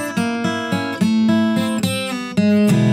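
Acoustic guitar playing a 12-bar blues intro lick in E, a string of plucked notes and bright strummed chords in a bouncing rhythm, close and clear with no talking.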